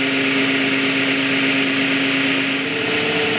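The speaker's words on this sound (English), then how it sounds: "That's how fast the shaft's spinning on the generator." A small generator's shaft spins steadily, driven by a cart motor, with a loud, constant high-pitched whine and hum that does not waver and sits close to the listener with no voices.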